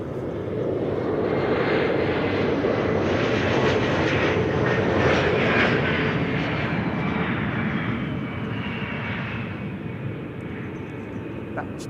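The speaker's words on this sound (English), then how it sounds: "This is KLM flight 1284 and Embraer 175 arrived from Aalborg." A KLM Embraer 175 jet arriving at Amsterdam Schiphol from Aalborg, a steady, fairly close jet roar with a whining tone that swells and then slowly fades as the aircraft passes.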